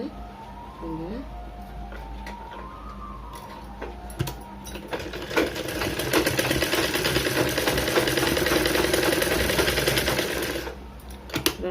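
A sewing machine stitches a back-open blouse, starting with slow, quiet handling, then running in a fast, loud, steady mechanical whir for several seconds before stopping near the end.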